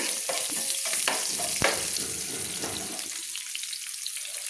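Chopped garlic sizzles and fries in hot oil in a pan, stirred with occasional scrapes and clinks of a utensil, steady and close with no talking.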